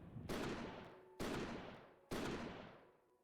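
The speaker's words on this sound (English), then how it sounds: "His shotgun roars almost as loud as the booming thunder." Three booming shotgun blasts in an audio drama, each a loud sharp crack with a long rumbling decay, evenly spaced about a second apart with no voices.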